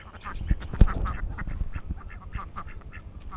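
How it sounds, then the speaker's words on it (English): Ducks quack repeatedly on an outdoor pond, a string of nasal calls at irregular intervals, some closer and louder, with a couple of sharp knocks early on and no talking. "Look at the ducks, guys."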